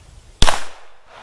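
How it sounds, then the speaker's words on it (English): One sharp, close shot from a Beretta U22 Neos .22 pistol fired at balloon targets outdoors, a single crack followed by a brief fading tail. "The gun shoots great as long as you do your part."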